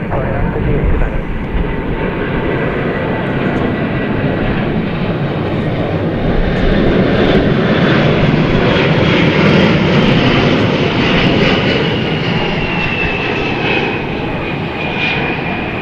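An American Airlines jet departs DFW Airport at night, a loud, sustained engine roar with a rising whine that swells and holds through the whole stretch, near and powerful.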